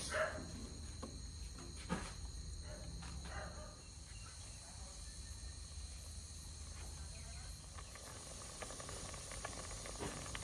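A pot of Thai crab curry (om pu na) with lemongrass, shallots, chili and pumpkin coming to a boil, giving a steady low bubbling hiss with faint simmering crackle and no talk over it.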